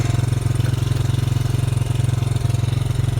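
A Honda 100R motorcycle engine idles steadily just after a kickstart, a close, even, rapid putter with a regular pulsing rhythm and no talk over it.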